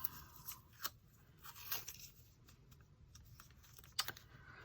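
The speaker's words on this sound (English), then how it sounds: "It's a little thing of Santa's, and I'm just going to cut out one." Scissors snip through paper while cutting out a small printed Santa for a mixed-media December journal, giving a few soft, crisp cuts and rustles close by, with no talking.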